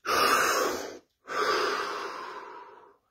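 A deep breath taken close up: a long, loud inhale, a short pause, then a slower exhale trailing off, during a guided relaxation session with no talk.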